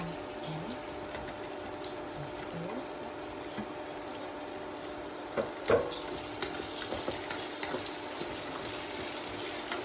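Crushed ginger fries in a pan at home, giving a steady, fairly loud hiss and crackle throughout, with a few sharper clinks and taps near the middle.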